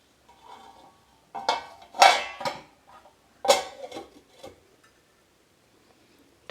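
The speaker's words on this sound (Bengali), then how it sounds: "এবার আমি এটা ঢাকা দিয়ে দেব" A lid set onto a cooking pot of Bengali mixed vegetable curry gives a scattered series of short, close metallic clatters and taps, with quiet gaps between them.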